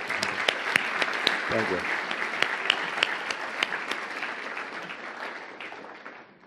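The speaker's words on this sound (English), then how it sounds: "Can everyone join me in another round of applause, please?" Applause from a lecture audience after a talk, starting fairly full with sharp individual claps standing out, then thinning and fading toward the end, with a brief spoken thanks near the start.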